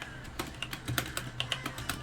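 Keys tapping on a computer keyboard as someone types, a dozen or so distinct clicks in an uneven rhythm, close and fairly crisp, with no voice over them.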